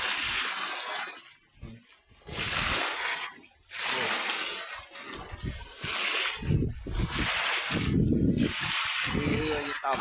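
Water waves slosh and splash against a boat in strong dry wind, coming in repeated loud surges separated by brief lulls.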